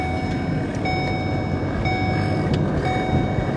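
A CN mixed freight train, westbound M397, rolls by close and loud, with a continuous heavy rumble and clanking wheel noise that holds steady throughout.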